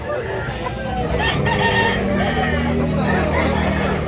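Big roosters crowing and clucking amid a busy market crowd, bird calls mixed into steady chatter and babble with people talking nearby throughout.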